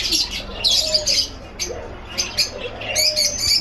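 Several lory parrots call at a bird farm in short, shrill squawks and chirps that come in repeated bursts. The calls are mixed with other birds and a low background hum, and they sound fairly close.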